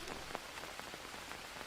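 Rain in the jungle survival game Green Hell, a soft steady patter of drops with scattered louder ticks, faint and continuous throughout.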